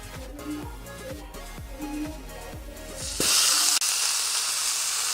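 Loud, steady sizzling erupts as chicken hits a hot frying pan, a broad hiss that continues unbroken, following some clattering and knocking.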